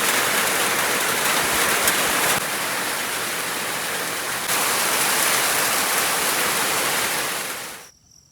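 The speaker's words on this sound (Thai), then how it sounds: "ฝนตก" Steady rain falling outdoors, a dense even hiss close by that holds for several seconds and then fades out abruptly at the end.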